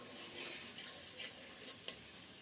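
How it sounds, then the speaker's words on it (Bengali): Ginger and cumin spice paste, seasoned with salt and turmeric, is stirred and fried over low heat in a pan for a prawn malai curry, giving a steady soft sizzle with light scraping strokes and no voices. "মশলাটাকে নেড়ে চেড়ে অল্প তাপে সুন্দর করে কষিয়ে নিচ্ছি"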